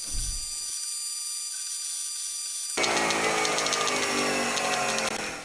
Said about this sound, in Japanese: 基本通りセンタードリルからですが、この穴はリーマー仕上げとなるので